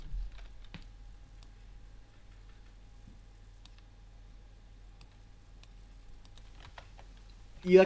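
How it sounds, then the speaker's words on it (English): Clicky computer keyboard keys tapped in scattered, sparse bursts at close range over a low steady hum, with a louder knock at the very end. "I like a clicky. It's a very clickable keyboard."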